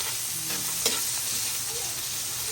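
Pancit ingredients sizzle in a hot pan with pork fat while being stir-fried, a steady hiss with occasional scraping stirs and small pops, close and fairly quiet.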